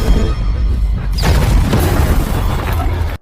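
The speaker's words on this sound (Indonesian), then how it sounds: "ledakan hebat yang menghancurkan rumahnya" A house explosion: a loud, rumbling blast with a sharp crack, followed by sustained crashing and debris noise that fades out at the end.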